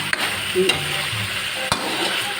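Chicken for tinola sautéing in oil in a pot, giving a steady close sizzle with a few brief utensil knocks against the pot, no voices.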